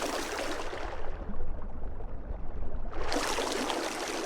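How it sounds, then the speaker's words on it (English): A Babbling Brook synth patch from the OmniChill sound set, its watery, bubbling noise swept by a filter on the mod wheel so the top end closes down in the middle and opens again, continuous and fairly loud with no voice. "Filtered by using the Mod Wheel."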